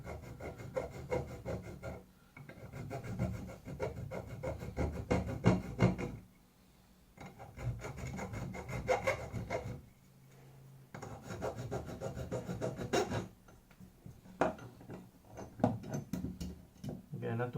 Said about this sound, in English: If you don't have Dremel, you can use this tool. I believe it's called File